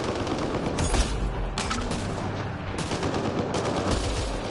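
Heavy gunfire in the sci-fi action game Mass Effect Andromeda, continuous rapid bursts and shots layered over a dense, loud battle din without pause.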